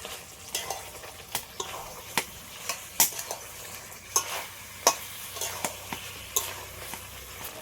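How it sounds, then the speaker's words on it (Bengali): Chicken sautés with cashew paste in a pan for pepper chicken, a low sizzle under repeated crisp spatula taps and scrapes against the metal, landing in an uneven, steady rhythm close by with no talking. "এবার আমি কাজু বাদাম বাটাটা দিয়ে দিচ্ছি বেশ কিছুক্ষণ আরেকটু কষিয়ে নিই"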